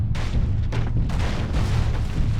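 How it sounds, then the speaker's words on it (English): An aerospace fighter in MechWarrior: Living Legends fires on the player, a dense, continuous roar of booming weapon fire with rumbling low impacts filling the whole short stretch, loud and without speech. "I hear an aerospace fighter. And it is shooting at me."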